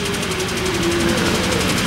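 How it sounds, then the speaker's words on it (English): Construction machinery on an island construction site in Malacca, a steady mid-pitched engine drone with a faint rising whine, running continuously at moderate distance. "The rest of the island is basically one big construction site."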